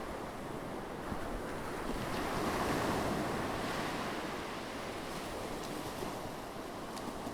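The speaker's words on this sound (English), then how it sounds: "Venturing closer to the water's edge, Abby felt the foam-tipped waves gently brush against her ankles." Foam-tipped ocean waves wash steadily onto a beach, a continuous broadband surf roar swelling slightly mid-way, with some wind rumble on the microphone and no voices.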